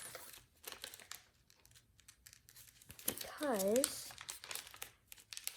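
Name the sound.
folding origami paper in half for an F-35 model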